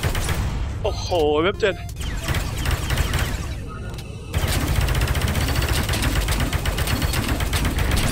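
Gunfire in a VR space pirate mixed reality game, with steady rapid bursts of shots and electronic sound effects running throughout, while someone talks and exclaims over the action.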